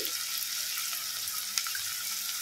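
Fenugreek seeds and turmeric sizzling in hot frying oil, a steady, bright crackling hiss that stays constant throughout with a few sharper pops, close and with no voices.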